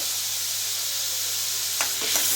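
Tomato purée with turmeric powder frying in a pan, a steady close sizzle and hiss throughout, with a few brief stirring scrapes near the end.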